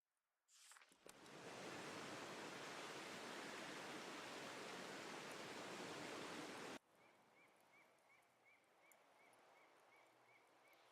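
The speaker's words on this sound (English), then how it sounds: "These waterfalls were in the backyard of an old artist I met." Waterfalls in an artist's backyard in the game Season: A Letter to the Future pour in a loud, dense, steady roar for several seconds, then cut off abruptly to a quieter ambience with faint repeating chirps.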